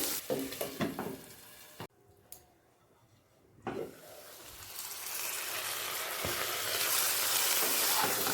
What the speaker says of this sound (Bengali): আর আমন সব উপকরণগুলো লো ফ্লেমে ভাজতে ভাজতে সেদ্ধ করে নেব অবশ্যই ঢাকা দিয়ে